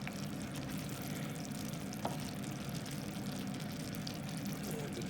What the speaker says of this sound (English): we're just going to wait for that to come to boil